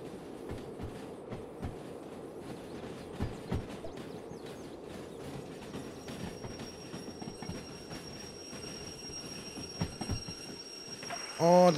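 A steam train in Derail Valley brakes, with a steady rolling rumble and scattered clanks giving way to a rising metallic squeal near the end, quiet and without talk.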